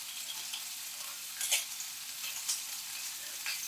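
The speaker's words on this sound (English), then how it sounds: "You are going to sear each cutlet in the oil in the pan" Chicken cutlets searing in hot oil in a small pan, giving a steady, quiet hiss of frying with a few brief crackles and pops.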